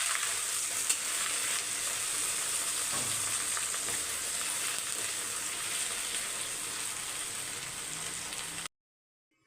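Chutney ingredients sautéing in a hot pan, a dense, even, rain-like sizzle with a few faint stirring touches, cutting abruptly to silence at the very end.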